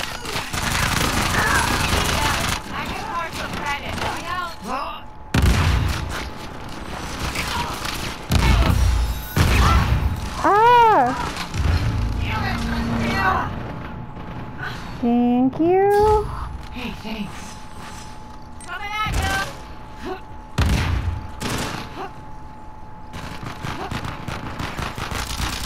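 In Uncharted 4, bursts of gunfire and explosive booms crack out in clusters across the gameplay, separated by quieter gaps, while a player's voice exclaims loudly over the action.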